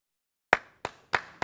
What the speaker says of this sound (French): Herman, il faut applaudir.